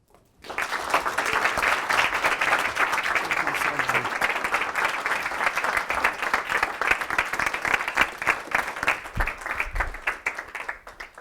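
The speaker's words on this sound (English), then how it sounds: "Can we give him one more round of applause?" An audience applauds after a training talk on one-to-one meetings and relationship building, a loud, steady wave of many hands clapping that starts sharply and continues for about ten seconds.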